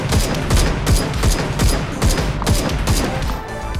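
Rapid gunfire rings out in the video game Super People, loud sharp shots in quick bursts of roughly two to three per second, each with a short tail, continuing throughout without any talk over it.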